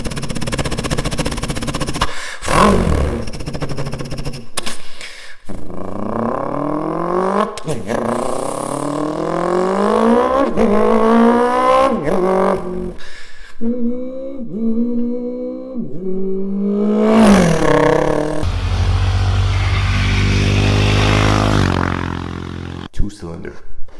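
A human voice imitates a two-cylinder motorcycle engine revving, with repeated rising, sputtering pitch sweeps and throaty bursts, loud and close in a reverberant public bathroom.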